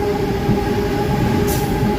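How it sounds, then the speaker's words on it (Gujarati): A freight train rolls through a railway junction at Mota Liliya in Gujarat, a steady low rumble with a sustained metallic hum and a brief high squeal, heard close without any talk. "આ છે તેનું રેલવે જંકશન માલગાડી લાગે"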